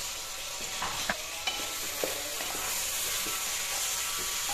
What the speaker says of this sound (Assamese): এইখিনি এতিয়া ভালদৰে ভাজি ল'ম মই।